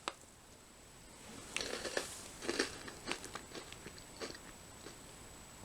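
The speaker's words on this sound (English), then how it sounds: "But it is nice and crunchy." Close, crisp crunching of small bites of Lorenz Pom Sticks paprika potato snack sticks, irregular and brittle, starting after a quiet moment and continuing in short bursts with no talking.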